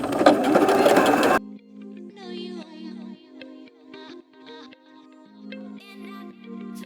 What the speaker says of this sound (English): vest to the machine and I'm going to start sewing it down